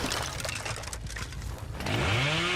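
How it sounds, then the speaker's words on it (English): A chainsaw revving up in the Dead by Daylight video game, a rough buzzing rumble that swells into a loud rising engine whine near the end, heard alone with no talk. "I'm starting my chainsaw early just in case"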